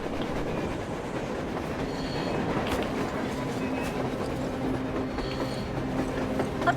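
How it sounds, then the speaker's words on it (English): A surface train in the video game Metro Exodus rumbles steadily nearby, a continuous rolling roar of rail noise with faint wheel squeals and clicks, no voices. "A train! A damn train on the surface!"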